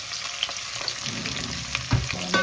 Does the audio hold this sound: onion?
yes